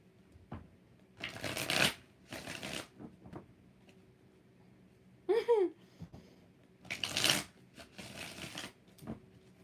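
Tarot deck being shuffled by hand in several separate bursts of riffling card noise, close and clear, with a brief vocal sound between them.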